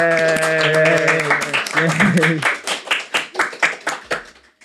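Small studio audience at a live podcast recording gives a burst of hand clapping, starting over a sustained tone that fades away, then thinning into scattered individual claps toward the end.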